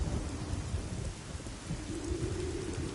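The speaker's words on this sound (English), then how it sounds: "it's raining and storming" Rain and a thunderstorm in the video game Lords of the Fallen: steady heavy rainfall with a low rolling rumble of thunder underneath, continuous and enveloping, with no voices.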